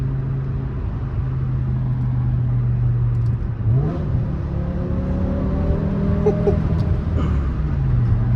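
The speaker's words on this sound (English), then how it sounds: "There, you get to hear the engine a little." A BMW E60 M5 engine hums steadily and then rises in pitch as it revs in a tunnel, loud and enclosed, with a constant road roar underneath.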